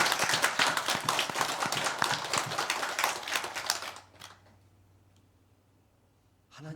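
A church congregation at a Korean Methodist Sunday service claps together in a dense burst that fades out after about four seconds, leaving quiet room tone with a faint hum.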